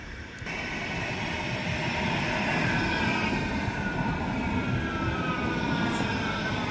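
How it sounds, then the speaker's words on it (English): A tram arriving at a tram station: a steady loud rumble of rail wheels with a faint rising whine, continuous throughout, with no talking. "we've just arrived at the tram station. Lawrence is just getting our tickets and the tram is due in 1 minute"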